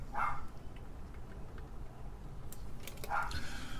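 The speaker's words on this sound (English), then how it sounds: "wonder what she's barking at down there" A dog barks a couple of times some distance away, short faint yelps at the start and again near the end over a quiet indoor background.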